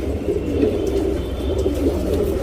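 Pigeons cooing in a steady low murmur, soft overlapping coos filling the space continuously with no speech.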